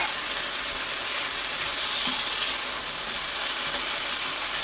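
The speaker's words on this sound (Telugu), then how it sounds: "వేగిపోతుంది" Gongura leaves and onions frying in a pan for prawn curry give a steady, even sizzle and hiss throughout, soft and continuous with no talking.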